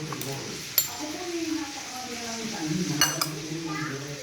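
Anahaw shoot (ubod) salad with calamansi being tossed and mixed in a bowl, soft scraping and stirring with a few light utensil clinks, under background kitchen noise and faint voices.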